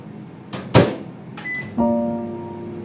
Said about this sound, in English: whack it in the microwave for 2 minutes again, and that literally will be piping hot.